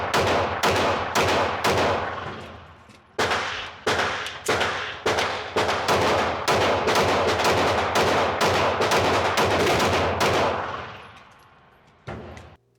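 A Fusion XP Pro pistol fires rapid shots, sharp loud cracks in quick strings with short pauses between volleys, echoing outdoors and tapering off near the end.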